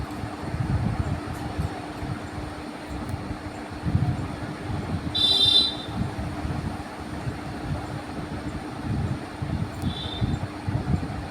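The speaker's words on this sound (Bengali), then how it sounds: "এই যে ট্রেন ঢুকছে চন্দননগর যাওয়ার জন্য" Train pulling into a station on the way to Chandannagar: a steady low rumble of rolling wheels and carriages runs throughout, with a brief high-pitched squeal or hiss near the middle and a fainter one near the end.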